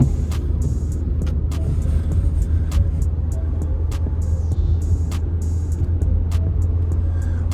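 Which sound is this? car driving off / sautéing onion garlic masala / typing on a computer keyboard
car driving off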